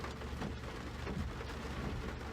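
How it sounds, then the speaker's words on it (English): Steady rain falls outdoors, a dense continuous hiss of drops spattering on surfaces, close and even throughout with no voices. "pardon the rain"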